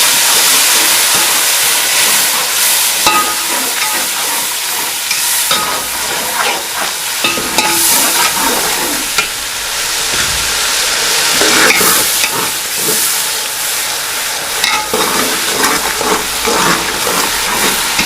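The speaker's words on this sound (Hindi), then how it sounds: "दही भी अभी डाल देती हूँ।" Yogurt goes into frying beef paya, a loud, continuous close sizzle with steam hiss and repeated stirring scrapes, no talk over it.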